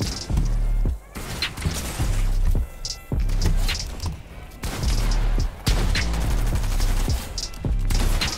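Rapid bursts of drum gun fire in a Fortnite-style zone wars match, loud and close, with repeated volleys separated by short gaps and impact thuds throughout.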